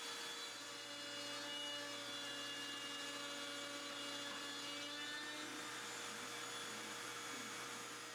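A Genmitsu 4040 Reno desktop CNC router cuts plywood scraps with thin hardwood veneer, giving a constant, even, high-pitched whine and hum from the spindle with a soft rushing noise underneath.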